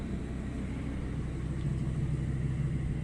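A lifted Ford Econoline van's V10 engine rumbles at idle nearby, a low, steady, moderately loud drone with no voices over it.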